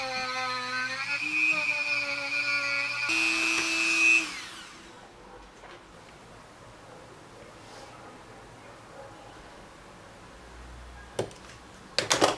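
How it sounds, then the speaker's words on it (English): A Dremel rotary tool whines at high speed while cutting a curve into thick 3 mm styrene for a diorama base, a close, tonal motor pitch that shifts as it bites, then stops, leaving quiet handling and a few clicks. "I decided to use my Dremel tool to make this round curve"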